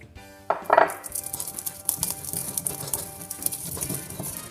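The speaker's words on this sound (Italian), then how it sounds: "Iniziamo subito con l'inserire il pepe rosa dentro il mortaio e iniziamo a dargli una prima pestatura." Pink and green peppercorns pounded in a mortar, close clinks and gritty taps of the pestle cracking the hard spice, busiest at the start then continuing irregularly.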